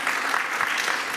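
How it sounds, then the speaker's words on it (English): A burst of steady applause from a panel discussion audience, dense clapping at moderate volume filling the whole moment. "Did you all want to clap again there, President Stevens?"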